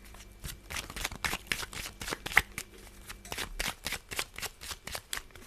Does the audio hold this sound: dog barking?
no